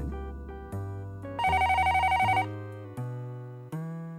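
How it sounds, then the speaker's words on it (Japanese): A telephone rings in a Japanese detective video game, electronic ringtone notes stepping through a short melody with a brief trilling burst in the middle, clear and alone without talk. "こんな時に電話なの。"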